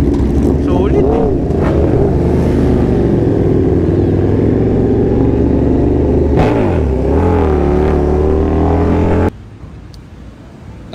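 A 2019 Aprilia RSV4 1100 Factory motorcycle with a racing setup revs loudly and close, its engine rising and falling through several throttle blips, with people talking over it before it cuts off.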